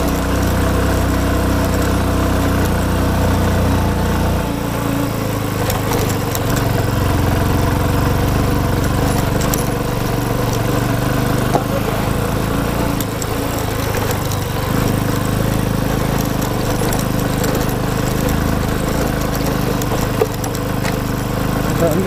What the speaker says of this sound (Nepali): बाइक राइडरहरू एकदम दौड्या छन्